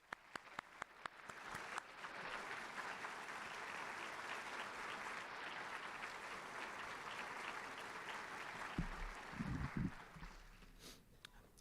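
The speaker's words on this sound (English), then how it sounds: "give a round of applause as we recognize our graduates" Audience applause rises at a university engineering graduation ceremony, opening with a few isolated claps before swelling into sustained, moderately loud clapping from a large crowd, then tapering with some shuffling and handling noise at the end.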